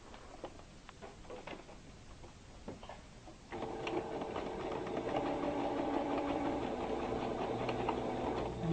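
A sewing machine stitching fabric for Dresden plate quilt patchwork, starting with a few scattered handling clicks and then running steadily in a continuous mechanical whir with rapid rhythmic needle ticking, close by and with no talking.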